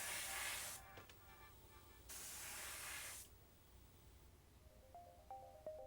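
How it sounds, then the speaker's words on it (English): An airbrush sprays enamel paint onto a 1/35 scale M4A1 Sherman model tank in two soft, quiet hissing bursts of about one second each, separated by silence, with faint small clicks at the end. "First, apply a light dusting of enamels by airbrush."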